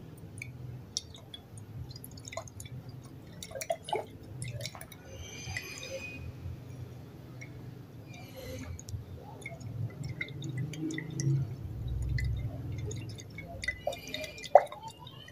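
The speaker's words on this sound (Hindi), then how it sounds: "अब इसको हिलाते हैं।" A spoon stirs honey into a glass of water, giving faint, soft clinks and taps of metal against glass with quiet liquid swirling, close and intermittent, with no talking.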